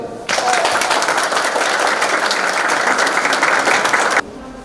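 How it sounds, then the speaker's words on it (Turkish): Students applaud together at a Turkish school event for exam-bound pupils, a dense, steady burst of clapping that starts abruptly and cuts off cleanly after about four seconds, loud and close with no talk over it. "Öncelikle bugün burada olduğunuz için bir kendinizi bir alkışlayın"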